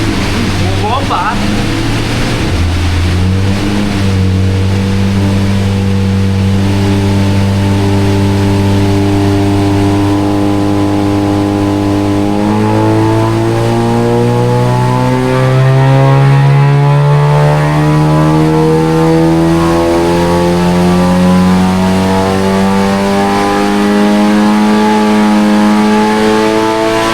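A car engine revs hard on a dyno, the loud exhaust note climbing steadily in pitch through the gears with rising harmonic whine, with people talking faintly underneath.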